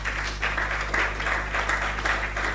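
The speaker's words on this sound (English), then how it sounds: "A warm round of applause, please, everyone." A conference audience claps in sustained applause, with dense, continuous clapping holding steady throughout with no voices.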